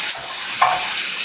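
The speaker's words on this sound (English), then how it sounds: "Sizzle going so much I can barely even hear my music now" Loud, crackling sizzle of food frying in a hot pan, with a brief scrape of stirring partway through; no one speaks.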